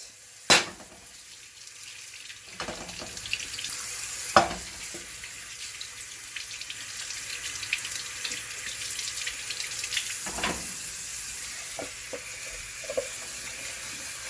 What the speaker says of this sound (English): I'm going to wash them out. Wash them off.